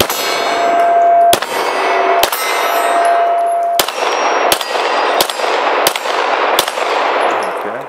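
Pistol shots ring out against steel targets at a competition-style range, about eight sharp metallic clangs spaced irregularly, each with a ringing decay, loud and close.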